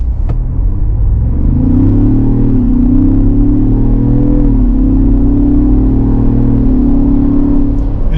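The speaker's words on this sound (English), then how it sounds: "And you can really hear the exhaust because there's not much sound deadening in here." Exhaust of a 2024 Ford Bronco Heritage Limited 4x4 while accelerating, heard from inside the cabin with little sound deadening: a loud, steady mid-pitched engine rumble that rises and dips as it revs, continuous throughout with no talk.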